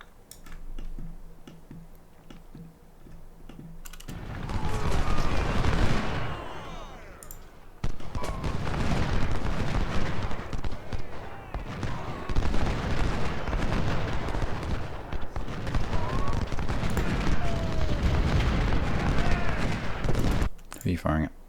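Cannon and rifle fire from a Civil War battle at Saunders Farm in Ultimate General: Civil War, sounding as a dense, continuous rumble of distant volleys and booms under frequent talking.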